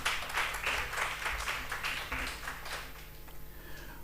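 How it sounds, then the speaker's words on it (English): Seminar attendees at a library week event give a speaker a brief round of clapping, distinct hand claps at first that thin out and fade away after a few seconds, leaving quiet room tone. "Let's give May another hand of applause."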